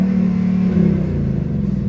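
A Ford car with an active valve performance exhaust in track mode idles and revs with a deep, loud, close rumble, rising briefly and settling back without any speech.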